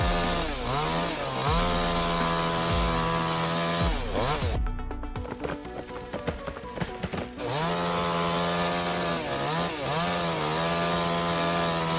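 A chainsaw runs hard while felling a tree, its engine revving up and down through long steady stretches and a dense, rough burst mid-cut as the chain bites into the wood, loud and close.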